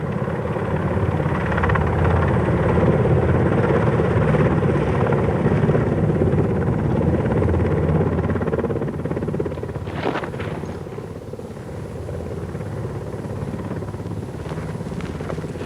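A helicopter's rotor thumps and whines loudly and steadily, easing off slightly partway through as it lands, with a couple of sharp clicks near the end.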